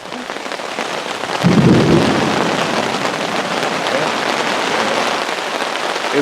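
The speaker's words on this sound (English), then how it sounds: "It might rain today." Steady heavy rain pours onto a Florida campsite during a thunderstorm, a loud close hiss with a low rumble of thunder rolling in partway through.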